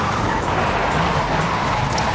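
An electric car drifts in Forza Horizon 5, its tires skidding in a steady, loud roar of engine and tire noise that fills the whole moment without a break.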